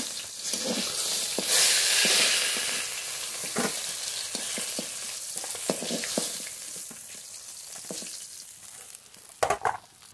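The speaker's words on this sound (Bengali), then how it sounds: "উল্টিয়ে পাল্টিয়ে নেড়ে খুব ভালো করে মাছগুলো ভেজে নিয়েছি" Fish frying in oil in a pan: a steady sizzle and hiss with intermittent scraping clinks as the pieces are stirred and turned, a louder clatter near the end.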